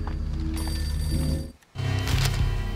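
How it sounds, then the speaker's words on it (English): A telephone rings in the Max Payne video game, a bright repeating electronic bell tone that cuts off briefly partway through and then resumes, fairly close and clear with no voices over it. "phone's ringing."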